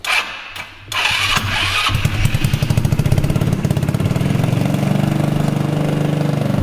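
Cold start of a Super Sonik scooter engine: a brief cranking burst, a short pause, then the small engine catches and settles into a loud, steady, rapid-pulsing idle close by, with no talk.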